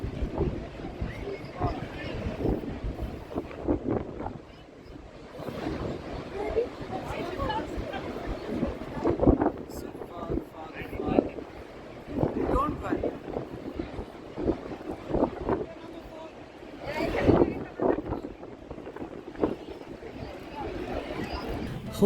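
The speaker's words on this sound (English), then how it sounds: "It's a windy day." Gusty wind buffets the microphone in uneven rumbling bursts, with several stronger gusts standing out over a constant blustery roar.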